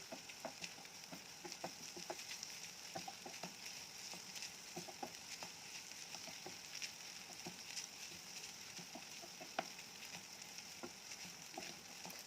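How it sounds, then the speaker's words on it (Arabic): Green chili peppers sautéing with meat in a hot pan, a steady sizzle and frying crackle over about twelve seconds with scattered stirring clicks and scrapes, close and fairly quiet, no voices. "انزلي عليها بقى بقرن فلفل اخضر حامي او بارد على حسب ما بتحبي، وشوحيه معاهم شويه"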